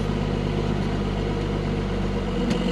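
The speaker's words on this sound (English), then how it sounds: "hand throttle, burnout" A 12-valve Cummins diesel pickup truck engine runs on hand throttle before a burnout, a loud, steady close-up diesel drone with a faint sharp click near the end.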